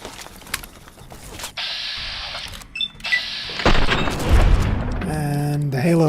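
Gunfire from the video game Fallout: New Vegas during bounty hunting in the wasteland: several sharp shots and bursts with mechanical clatter, followed by a rising tonal game effect near the end.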